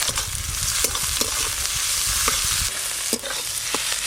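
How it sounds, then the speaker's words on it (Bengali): Chopped onions frying in oil with whole garam masala and a dried red chilli, loud steady sizzling with intermittent stirring scrapes in the pan, close up and without speech. "আজকে পেঁয়াজগুলো কিন্তু লাল লাল করে ভাজবো না, আর ভেজে একেবারে গলিয়েও ফেলবো না, একটু গোটা গোটা থাকবে।"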